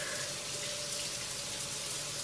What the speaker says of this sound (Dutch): Ik ben weer thuis en ik heb de douche aangedaan.